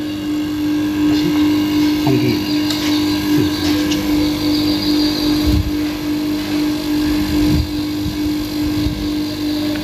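A reverse-cycle window air conditioner with its compressor motor running, producing a loud, steady mechanical hum with a constant tonal drone, joined by occasional soft thumps and handling noises, and a brief spoken word.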